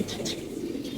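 A brief stretch of pigeons cooing in a loft, a low hum of calls at moderate volume with faint higher rustles above it.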